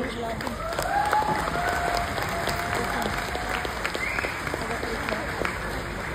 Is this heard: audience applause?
yes